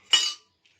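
Ice cubes dropped into a lemon drink made with sugar syrup and black salt, a single short clattering clink up close, then quiet with a faint tap afterward.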